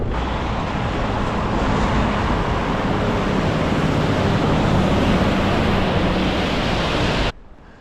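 Gale-force winter wind roars across open moorland in the West Pennine Moors, a dense, continuous rushing buffet close to the microphone that cuts off abruptly at the end.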